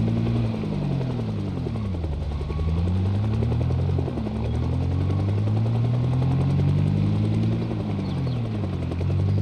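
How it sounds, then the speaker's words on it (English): Helicopter flying overhead in Project Zomboid, its steady rotor chop and engine drone loud and continuous throughout, with the pitch gently rising and falling as it passes. "Good to see my other friend, the one that's alive, flying in the helicopter"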